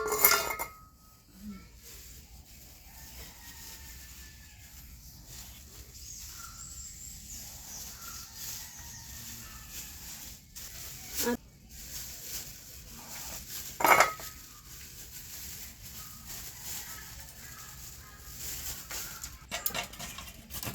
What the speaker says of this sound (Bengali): লাউটা এখন ঝুড়ি ঝুড়ি করে কুচাইয়ে নেই।